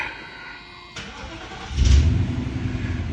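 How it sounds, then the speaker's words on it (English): A Mercedes W126 560SEL cranks briefly in neutral and then catches, its engine rising into a loud, steady idle close by. "So now we're gonna start the car in neutral."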